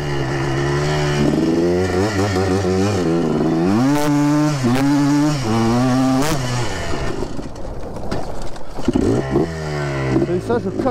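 A Yamaha Blaster 200 quad engine revs hard and close, its pitch climbing and falling through repeated throttle blips with a rattly two-stroke buzz.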